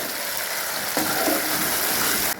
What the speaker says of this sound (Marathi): मसाल्याला छान असं तेलामध्ये फ्राय करून घ्यायचं आहे।